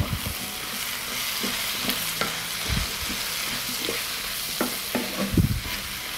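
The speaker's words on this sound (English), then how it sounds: "I fry leeks in the same fat. And mushrooms. I will stir and fry for 5 minutes." Leeks and mushrooms sizzle as they fry in fat, with a steady hiss under repeated scraping stirs and soft clicks of a utensil against the pan, close and alone.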